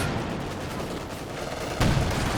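Anti-tank guns fire in a Company of Heroes 2 battle, with a pair of AT guns backing up a T-34-85 tank. A dense rumble of battle runs throughout, and a sharper, louder shot lands near the end.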